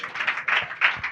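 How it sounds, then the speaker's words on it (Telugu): Church congregation clapping during a pastor's sermon: a brief run of dense, steady hand claps with a few louder swells, moderately close. "చప్పట్లు కొట్టాలి ఇప్పుడు."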